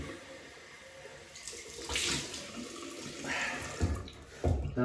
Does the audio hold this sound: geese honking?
no